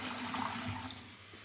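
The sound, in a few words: water running from a faucet after fixing clogged screen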